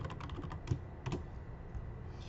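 Rapid keystrokes on a computer keyboard while entering question text into an online survey, a close, steady patter of clicks with a couple of heavier key hits, no voices.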